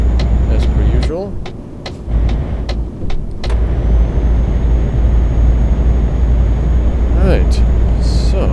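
Truck engine droning steadily in Euro Truck Simulator 2, a loud low rumble that builds under acceleration, with a few sharp clicks and tones early on and a voice speaking over it.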